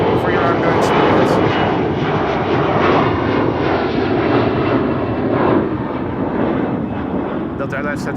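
Delta Airlines jet at Amsterdam Schiphol departing for New York JFK, a loud continuous engine roar close by, steady then easing slightly near the end, with a voice talking over it.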